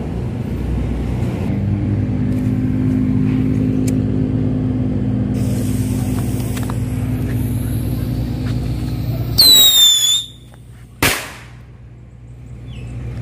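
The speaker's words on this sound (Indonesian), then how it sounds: "yang buat yang kelima, roketnya gagal terbang. Ini dia, meledak di pangkalannya." A firecracker rocket fails to fly. Over a steady low rumble it gives a brief rising whistle, then bursts with a single loud, sharp bang on its launch base, and a hiss trails away after it.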